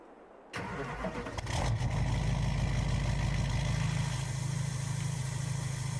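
Engine of a Denali family car in Farming Simulator 22 cranks and catches after a short quiet start, then settles into a loud, steady, low idle rumble that runs to the end.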